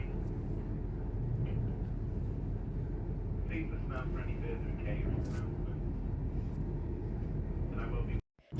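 An LNER Azuma train runs on the East Coast Main Line across the Ouseburn Viaduct in Newcastle, heard as a steady, low, rumbling roar from inside the carriage that cuts out abruptly at the end.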